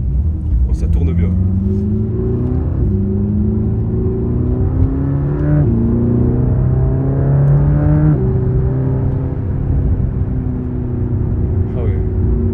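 Mercedes-AMG GT Black Series engine heard from inside the cabin while driving: a loud, continuous droning rumble whose pitch climbs through the revs and drops at each gear change, repeating several times, under steady road and wind noise.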